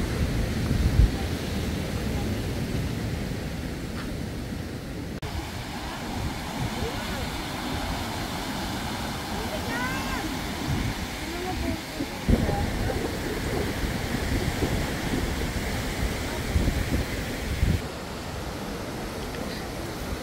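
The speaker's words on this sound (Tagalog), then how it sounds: "Masarap yung hangin. Malakas yung alon." Strong wind and crashing ocean surf at a gloomy beachfront with cottages in Quezon Province, a steady broadband roar under muffled wind buffeting on the microphone throughout, with no distinct voices.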